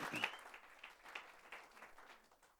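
A church congregation claps loudly together as an offering of praise to God, a dense wash of applause that swells and fades in waves across a few seconds.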